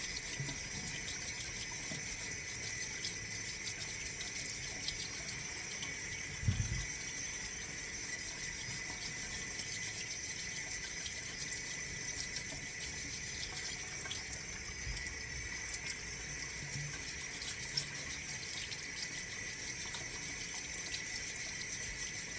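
Tap water runs steadily at a low level while potatoes are scrubbed, a soft continuous hiss with an occasional faint knock or clatter.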